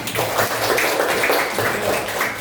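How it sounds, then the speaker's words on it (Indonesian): A class of students clapping their hands together in a classroom, a steady, dense patter of applause that carries on evenly at moderate loudness without any talk. "Tepuk tangan."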